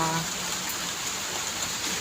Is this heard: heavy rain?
yes